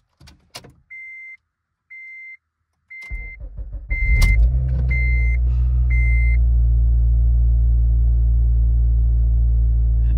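A Honda car with its Hondata FlashPro tune removed gives a series of chime beeps, cranks and fires up. Its engine then settles into a loud, steady cold-start idle while warming up.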